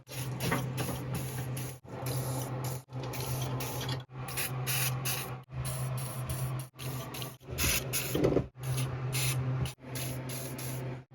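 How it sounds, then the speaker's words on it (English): Repeated bursts of aerosol penetrating oil sprayed on Jeep TJ bolts, each a steady hiss lasting about a second, separated by short pauses; close and fairly loud. "You're going to want to hit them with penetrating oil"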